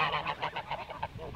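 Geese honk in a quick run of harsh, nasal calls at close range, overlapping and loud with no talking.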